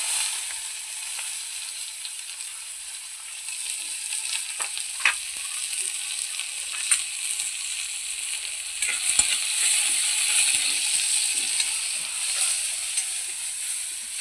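Onion sizzling in hot oil with cumin seeds and curry leaves, a steady bright frying hiss throughout with occasional small pops and crackles, no talking.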